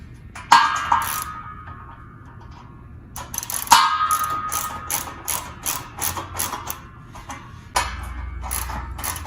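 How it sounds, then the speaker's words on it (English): A 14mm ratchet tightens bolts on a commercial air circulator fan pedestal. Fast metallic clicking comes in close bursts, with sharp clinks between them and no talking. "14mm ratchet."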